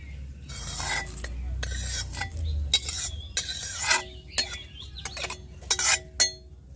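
Onion mixture stirred into a thick batter in a bowl, a close series of wet slapping, squelching strokes with light utensil clinks against the side, no voices.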